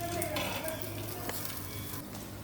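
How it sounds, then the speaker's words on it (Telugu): Tempering spices sizzle steadily in hot oil for a cucumber dappalam, a dense close-up crackling hiss with no pauses and a few small pops. "పోపు వేగుతుందండి"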